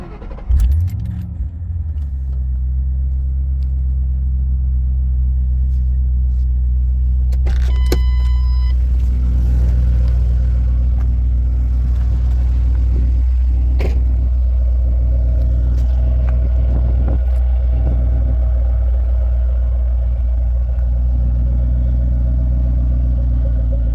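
A 2009 Ford Mustang GT with the 4.6 V8 starts and settles into a steady, deep idle, a loud low rumble holding evenly, with a brief jangle of keys and a few clicks early on.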